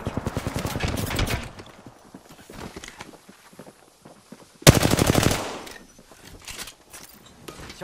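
Rapid automatic gunfire in Apex Legends, with two sustained bursts of fast, loud, evenly spaced shots separated by quieter in-game ambience and smaller pops.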